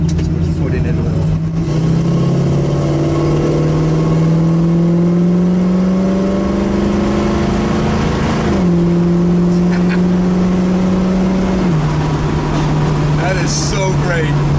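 A 1965 Ford Mustang Fastback engine revving as it accelerates, loud and close from inside the car, with the pitch climbing through several gear changes and someone talking over it.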